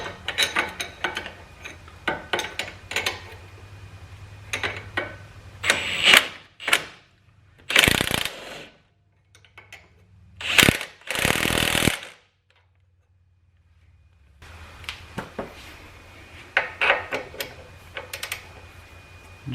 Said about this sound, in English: Just want to use a ratchet just to make sure it's tight